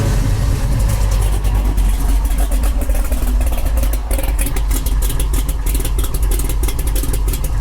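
A 1972 Chevy Nova idles loud and close with a deep, steady rumble that holds evenly for several seconds, with no one speaking.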